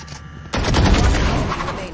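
Rapid gunfire in Valorant during ranked play: after a brief lull, a dense burst of close, loud shots begins and keeps rattling almost without pause to the end.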